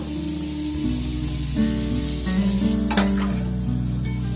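Potatoes fry in a pan with a loud, steady sizzle and crackle, close and continuous, with a brief clatter of stirring near the middle.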